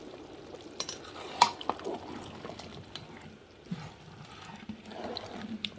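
A spoon scrapes and knocks softly against a pot of chicken biryani rice, with a gentle simmering sizzle underneath and a few brighter clinks.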